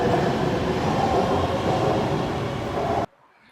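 A Bangkok BTS Skytrain Green Line car rides along with a continuous rolling rumble and rail hum, close and steady, then cuts off abruptly near the end, no talking.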